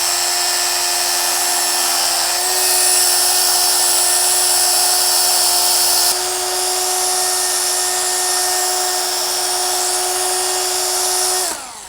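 A rotary polisher fitted with a microfiber or wool pad works over a ceramic-coated car panel, a loud steady motor whine holding throughout with slight pitch shifts as pressure changes, no voices.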